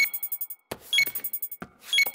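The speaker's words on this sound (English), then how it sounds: "Why is the computer beeping?" A library checkout computer beeps in short repeated electronic tones, a steady series of bright chirps with two louder double beeps, clear and close with no speech.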